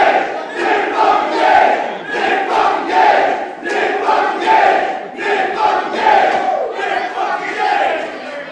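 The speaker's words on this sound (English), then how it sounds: "we hear the crowd giving it up" Wrestling crowd at an IWA East Coast deathmatch roaring and chanting in loud, rhythmic waves, a dense sustained cheer that swells and pulses steadily throughout.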